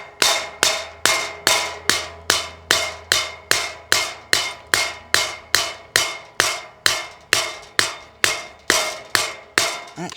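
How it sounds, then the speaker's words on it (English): Steady, evenly spaced metal hammer blows driving a ground rod for solar panels, about two per second, loud and close, with sharp ringing strikes and no talking. "I'm gonna finish hammering this down."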